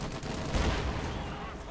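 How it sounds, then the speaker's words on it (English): Rapid bursts of cannon fire from a Puma armored car's 15mm gun in Company of Heroes 2, dense and continuous over battle noise, with a brief heavier thump in the middle. "Puma opening up 15mm cannon, though, fails to penetrate the front arm of the Sherman."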